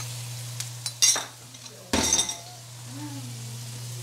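Minced onion hits hot oil in a home kitchen pan, bringing a steady low sizzle with a couple of sharp clatters and stirring scrapes early on, a faint voice in the background.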